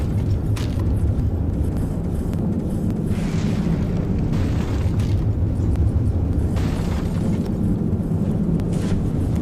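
Large torpedoes explode underwater in the naval combat game From The Depths, a continuous rumbling roar of blasts with deep low booms and repeated bursting surges, no speech.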